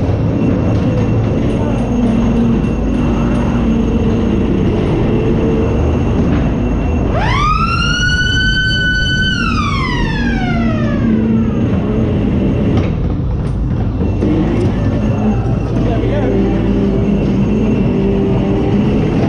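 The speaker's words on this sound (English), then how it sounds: "There we go, that was the ghost train." A funfair ghost train ride rumbles along steadily with background noise, then a rising wailing siren-like tone sweeps in, holds and slides back down over several seconds.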